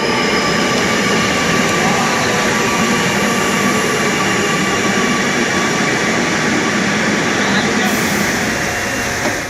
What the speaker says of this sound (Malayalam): അവിടെ നിന്ന് മെട്രോയിൽ ആലുവയിലേക്ക്.